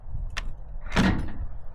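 A custom-built gate door with a soft-close fitting swings shut outdoors, a short click followed by a firmer latching thud, close and moderately loud with no talk.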